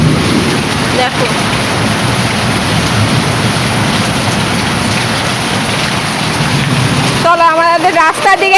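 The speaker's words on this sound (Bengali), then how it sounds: "আমাদের পেঁপে গাছটায় কি পরিমাণে বৃষ্টি পড়ছে দেখো" Heavy rain pours steadily onto a papaya tree, a loud dense roar of rainfall that continues throughout, with a voice talking near the end.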